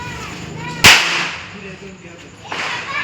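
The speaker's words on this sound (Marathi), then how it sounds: "इकडे ते फटाके वाजवतात तिथे बसले" Firecrackers set off by children outdoors: one sharp, loud bang cracks out, followed about two seconds later by a softer second pop over low background noise.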